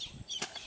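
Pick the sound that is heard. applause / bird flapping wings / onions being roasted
bird flapping wings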